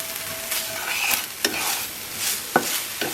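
Pork frying in a pan for Swedish potato dumplings, a steady close sizzle broken by a few sharp scraping stirs of a utensil, with no talking.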